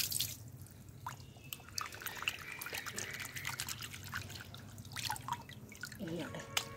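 Carrots are put into water, giving soft trickling and scattered drips close by, while a voice talks over the quiet splashing.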